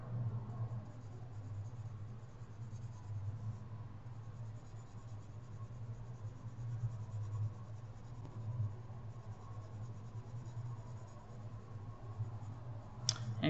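A pencil held on its side shades across drawing paper in a steady, soft continuous scratching that goes on without pause, faint and close, with a brief click near the end.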